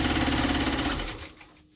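A Brother HA 4 sewing machine runs with a fast, even mechanical whir and clatter, fairly close, then slows and winds down to near silence in under two seconds.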